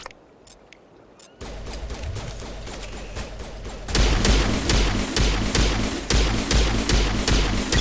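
Sustained automatic weapon fire in the video game Mass Effect Legendary Edition, quieter at first, then loud, dense and steady volleys from the four-second mark onward with rapid repeating shot transients.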